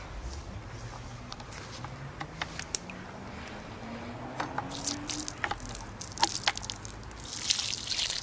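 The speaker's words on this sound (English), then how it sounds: "I've got a bucket full of water and it's going to add some water." Water is poured from a bucket onto dry mud for a charcoal forge, producing close drips, splashes and wet squishing that grow busier and louder toward the end, with no talk.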